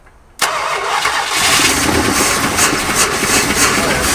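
An old big-block Chrysler V8, not run in 35 years, cranks and catches abruptly, then roars into a loud, rough rev and sustained high idle up close.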